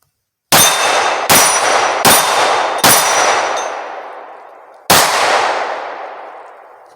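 Five gunshots ring out on steel targets during draw-and-shoot practice, four in quick succession and then a fifth after a pause, each a sharp loud crack with a bright metallic clang that rings out and decays.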